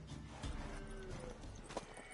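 A mare in the Witcher 3 video game clip-clops with a few hoof thuds, a low snort and a short whinny-like cry, quiet and fairly close over a steady ambient bed, with no talk.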